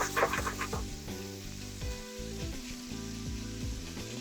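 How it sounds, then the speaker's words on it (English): Bacon fries into crispy bits in a pan, a soft sizzle running under a louder melodic music track. "So we're gonna fry the bacon into little crispy bits."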